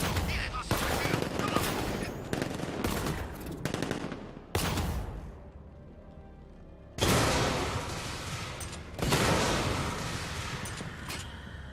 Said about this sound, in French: Tirez dans cette voiture!